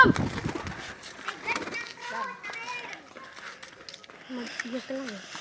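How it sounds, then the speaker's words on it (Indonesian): Domestic pigeons coo softly near their nest while people and children talk loudly nearby. The low, wavering coos come in short repeated phrases, mostly under the voices. "Kita lihat burung daraknya."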